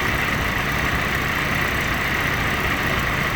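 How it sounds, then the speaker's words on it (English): A Willys jeep engine runs with very advanced ignition timing, a dense, continuous engine roar with rough, uneven texture, loud and close throughout. "You can hear it's popping a lot now."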